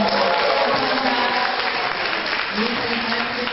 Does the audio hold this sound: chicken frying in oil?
no